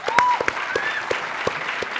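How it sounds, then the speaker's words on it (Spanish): A live talk-show audience breaks into applause, with scattered sharp claps over a crowd murmur and some cheering voices, moderately loud and close. "fuerte el aplauso para venezolanos."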